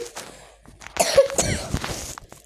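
A man with a cough coughs several times in quick, harsh bursts, close and fairly loud, with a brief throat-clearing rasp among them.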